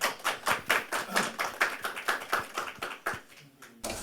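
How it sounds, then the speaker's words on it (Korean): A seminar audience claps in welcome for a speaker, a steady run of moderately distant hand claps that thins out toward the end before a brief burst of noise. "박수로 맞이해 주시기 바랍니다."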